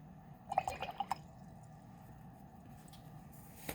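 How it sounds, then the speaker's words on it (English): Paintbrush rinsed in a cup of water during a watercolour cherry blossom painting, giving a short cluster of soft drips and sloshes near the mic, then quiet. "Rinse my brush."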